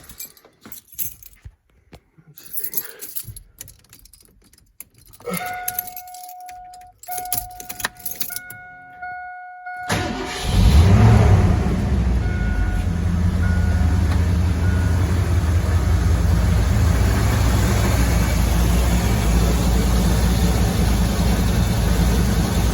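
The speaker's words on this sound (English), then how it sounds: "I think we can start it up. It's got a clean idle." A jangle of keys and a few clicks, then a Ford Bronco engine cranks and catches, settling into a loud, steady rumbling idle.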